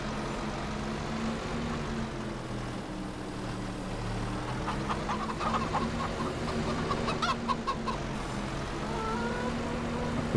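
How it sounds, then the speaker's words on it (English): Chickens cluck around a farm in the Riverbend Springs farming game, a steady busy clucking under a continuous ambient bed with faint rhythmic tapping in the middle. "away, chickens."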